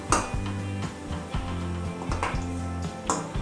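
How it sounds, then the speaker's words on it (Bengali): Potato and Maggi noodle snacks fry one by one in hot oil, a steady sizzle broken by clinks and scrapes of a utensil against the pan, while background music plays underneath. "এভাবেই এক এক করে আমি সবকটা ভেজে নেব।"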